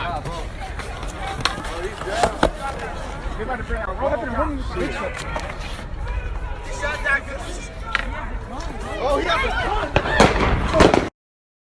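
Less-lethal rounds fired by police near a courthouse crack out in scattered sharp pops across a crowd scene, mixed with shouting voices, running and general commotion.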